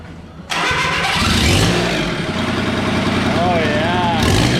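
A turbocharged diesel lawn mower engine with glow plugs cranks and catches, then settles into a loud, rough, close-up running rumble. A voice is briefly heard over it.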